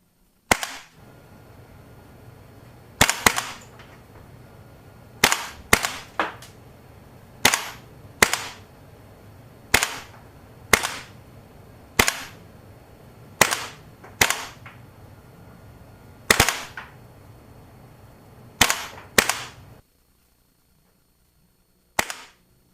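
A stock-nozzle WE AK74un airsoft rifle fires about seventeen single test shots, each a loud, sharp, close crack, irregularly spaced over a faint background with no talking.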